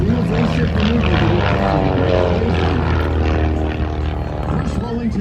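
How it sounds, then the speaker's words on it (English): Vintage propeller airplanes roar overhead in a tight tail chase at an airshow in Apple Valley, California, a loud continuous droning engine sound rising and falling slightly as they turn, with an announcer talking over it. "Todd Redford in the white and orange aircraft is locked onto the tail of in the red and white airplane"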